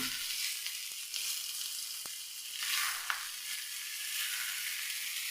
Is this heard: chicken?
yes